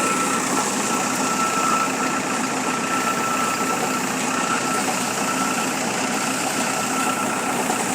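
A diesel engine drives a water well drilling rig boring into hard, dry ground, a steady loud idling rumble with a knocking edge that runs unbroken and close throughout, with no voices.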